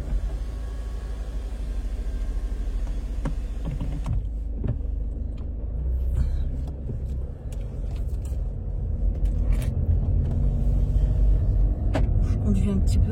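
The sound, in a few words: car driving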